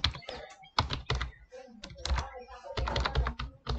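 HTML code is typed on a computer keyboard in quick bursts of close, clattering keystrokes with brief pauses, with someone talking over them.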